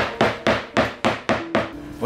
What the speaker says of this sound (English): You could take a hammer and start banging under the table